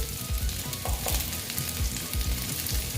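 Potatoes fry with a pinch of turmeric in a pan, a loud, dense sizzle right up close, with quick rhythmic scraping strokes of stirring running steadily throughout.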